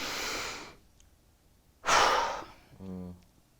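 A person demonstrates a deep breath the way teenagers often do it: a long breathy rush, a pause, a second forceful breath, then a short low voiced sound as it ends. The breathing is close and fairly loud.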